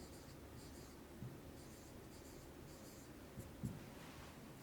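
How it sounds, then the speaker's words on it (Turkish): Marker writing on a board during a math lesson on scale, producing faint repeated squeaky strokes in short bursts with a few soft taps, quiet and close with no talk. "Bakın buraya yazıyorum."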